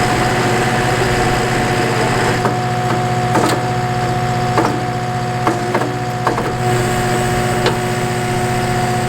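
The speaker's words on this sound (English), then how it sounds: "We're going to use a pulse hole digger on the skid loader, so let's bring her around" A skid loader's engine runs steadily at idle, a constant low drone with a few brief knocks or clunks scattered through, with no talking.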